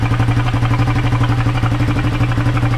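Steady, loud drone from a motorcycle running with a vuvuzela held over the exhaust, a low buzzing pulse with even throttle throughout, close to the listener and free of talk.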